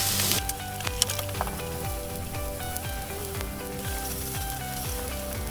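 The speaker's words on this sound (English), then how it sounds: "So we're just going to cook these until they go translucent." Chopped onions fry in a cast iron pot for a lamb shank tagine with ras el hanout, a steady close sizzle with occasional scrapes and knocks of stirring, no voices.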